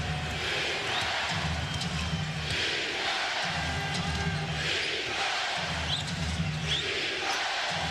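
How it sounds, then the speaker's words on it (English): Basketball arena crowd at a Mavericks–Kings playoff game chanting a loud, rhythmic defense chant in repeated pulses, with constant crowd roar filling the space and a few voices standing out. "Crowd putting a little more"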